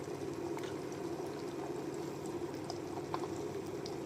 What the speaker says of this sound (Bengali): দেখতেই পাচ্ছেন ডিম ভাজা হচ্ছে।